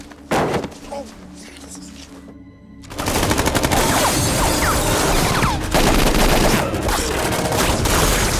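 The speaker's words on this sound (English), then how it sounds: "his men opened fire" A few muffled thuds and a slam come first, then after a brief hush a loud, sustained burst of automatic gunfire erupts as men open fire. The dense rattle continues to the end with voices shouting under it.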